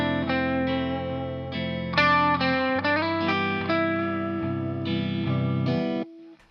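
Electric guitar plays a repetitive pentatonic lick, rocking back and forth between two notes with effects-laden, slightly chorused tone, clear and close, ending on a sustained note.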